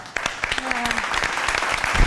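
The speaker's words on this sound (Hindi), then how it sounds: "आपके लिए तालियां" Studio audience applause on a TV game show, a short burst of clapping heard over a loud, busy background with a brief voice in the mix.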